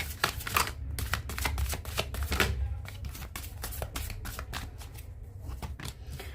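Tarot cards are shuffled by hand in quick, soft riffling bursts and taps, close but quiet, repeating in short bouts with brief pauses between them.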